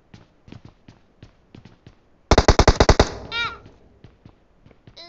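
PUBG Mobile gunfire: a loud rapid burst of about eight automatic shots midway, then a ricochet-like whine, with faint distant pops scattered before and after.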